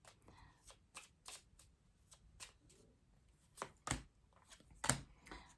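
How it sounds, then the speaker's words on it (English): Tarot cards being shuffled by hand in a quiet room, a run of soft papery riffles and taps with louder snapping bursts near the end, no voices. "I just saw the Death card when I'm shuffling"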